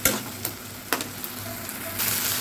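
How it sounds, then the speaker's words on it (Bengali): Spice paste cooking in oil over low heat gives a soft, close sizzle, broken by a few sharp scrapes or taps of a spoon and a brighter hiss near the end. "তো এটা আমি ভালোভাবে কষিয়ে নিই, আঁচটা কিন্তু আস্তেই আছে।"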